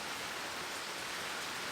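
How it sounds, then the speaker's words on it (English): Heavy rain pours steadily outdoors, a dense, even hiss of drops with no gaps or voices, fairly quiet overall and constant throughout. "Man, that rain!"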